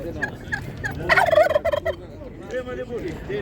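Several turkeys gobble close by at an animal market in quick, warbling bursts, the loudest call rising midway before softer gobbles trail off.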